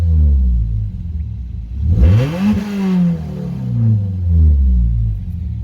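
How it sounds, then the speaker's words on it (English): A Mazda car engine is revved a couple of times while parked, rising into a loud rumbling climb, then falling and swelling again before dropping back to a deep idle. "Here's a couple revs for you."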